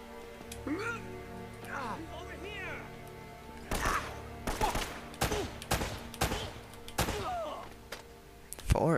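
Gunshots in Uncharted: Drake's Fortune fire as a burst of several sharp cracks in quick succession, followed by a final louder shot, with a voice talking earlier in the clip.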